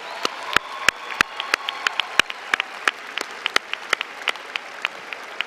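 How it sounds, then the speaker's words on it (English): A graduation ceremony audience at a college commencement claps, heard as sparse, separate sharp claps spread across the clip rather than a dense roar. "Please give them a big round of applause."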